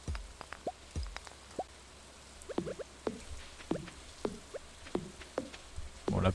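Scattered raindrops in the video game Stardew Valley plop and tap irregularly on a surface, quiet and close, with a faint steady background hiss.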